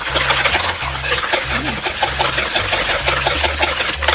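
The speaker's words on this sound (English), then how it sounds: "now I'm going to use a whisk and just beat until foamy." A whisk beating eggs and sugar until foamy, making a fast, steady scraping and rubbing rhythm that repeats in regular strokes, loud and close, under a low mechanical hum.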